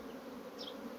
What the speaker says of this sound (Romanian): albinele aduc polen